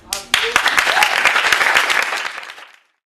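Applause for students at an open day of the IEJ Paris law school, a dense wash of clapping that starts sharply and fades out near the end, with a brief voice at the start.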